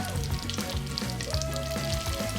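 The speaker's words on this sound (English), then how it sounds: "now comes the fun part of deglazing this entire creation up" Hot pan of braised chicken stew with bacon and heavily spiced ingredients being deglazed, giving a loud, steady sizzle and crackle that runs throughout with some stirring scrapes, no voices.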